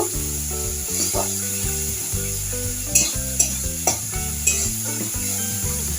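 Spiced chela fish curry with chili and turmeric frying in a pan while being stirred, a steady sizzle with a few sharp scrapes of the spoon over a constant background hum.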